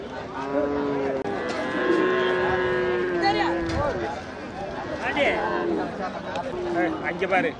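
Cattle mooing repeatedly at a busy outdoor cattle market in Manapparai, several long, drawn-out calls from nearby animals over a constant din of people talking and trading.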